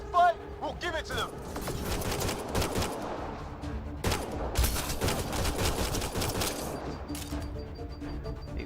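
Gunfire and bursts of automatic weapons in the sci-fi shooter Mass Effect: Andromeda, with repeated sharp cracks across the clip and voices speaking over the fighting.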